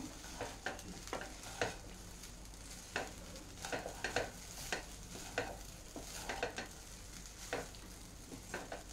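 Pudina (mint) rice being stirred in a pan with lemon juice: soft continuous sizzle beneath repeated scraping strokes of a spoon, irregular and close, fairly quiet.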